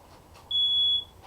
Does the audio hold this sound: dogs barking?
no